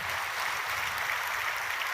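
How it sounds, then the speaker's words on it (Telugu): A church congregation applauds during a sermon, a steady, fairly distant patter of many hands clapping throughout, with no talk over it. "కొట్టండి చప్పట్లో"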